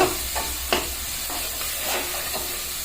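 Sliced tomatoes sautéing in a pan for chicken biryani, with a constant bright sizzle and occasional spoon scrapes and stirs, close by with no talking.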